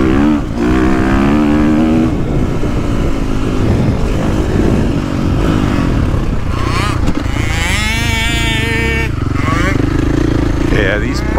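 KTM 450SXF Factory Edition dirt bike engine while riding, a loud continuous four-stroke roar rising and falling as the throttle is worked, close and dominant throughout.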